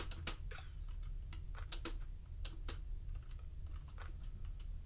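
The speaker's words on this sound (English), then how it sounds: "My keyboard is really clicky." A clicky computer keyboard taps out an irregular run of sharp keystrokes under a low steady hum from game audio, with no talk in between.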